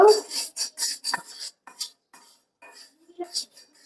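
A metal kadai is set down on a kitchen stove, giving a string of sharp clanks and scrapes, quick and close, then a few lighter knocks with short gaps between them.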